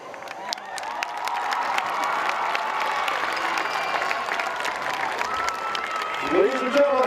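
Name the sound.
football crowd applauding the Geneseo High School Maplettes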